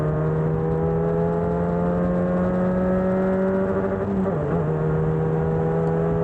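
A Formula DXB race car at Dubai Autodrome holds a steady high engine whine, dips briefly as it slows, then climbs again under acceleration, heard close and continuous.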